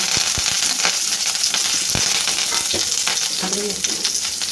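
Onions fry with popped mustard seeds and cumin in a pan for a lentil vegetable saaru, a close steady sizzle broken by sharp clicks of a spoon stirring.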